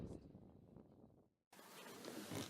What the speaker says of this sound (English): the bees are ready to fly in the sunshine